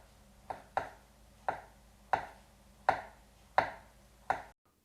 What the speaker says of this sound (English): slice it through the avocado like this